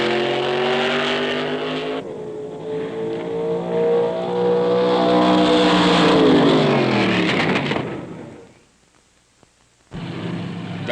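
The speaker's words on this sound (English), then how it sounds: "Got to have a racer to go to the drags." 1965 drag racing car accelerating hard at the drags, a loud rising engine roar with climbing gear tones for about eight seconds, then cutting off into near silence before the engine sound returns.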